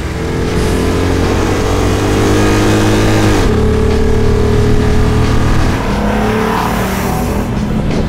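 A Toyota Hilux pickup fitted with a 6.2-litre AMG V8 from a C63 revs loud and close, holding a deep steady drone before the pitch drops and settles into a rumbling idle.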